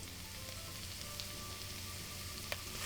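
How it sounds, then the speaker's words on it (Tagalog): Onion sautés in oil in a cooking pot, a steady close sizzle with faint crackles and one small sharp tick near the end, heard alone without talk. "Ang una ko nilalagay ay yung sibuyas. Igisa lang natin ito ng mga 25 to 30 seconds."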